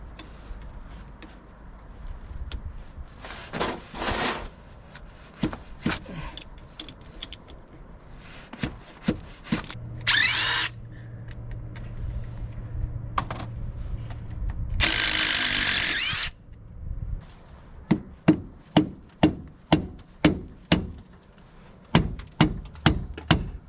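Bolts on a Dana 60 differential cover are loosened with a power tool, in several loud whirring bursts and rattling impacts, then a run of sharp rhythmic ratcheting clicks close by.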